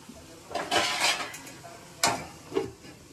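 Utensils scrape and clink against a pan as onions are stirred and fried, in a few distinct bursts with a faint sizzle underneath, close and moderately quiet.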